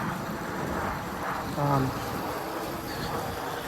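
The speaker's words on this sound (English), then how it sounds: "water coming down here. This nice little stream, you know, a little waterfall here" A small stream with a little waterfall runs steadily in an outdoor cemetery setting, giving a continuous broadband rushing wash of moderate loudness with no talk over it.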